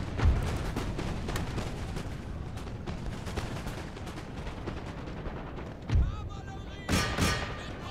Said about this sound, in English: we have the first shots coming into the campaign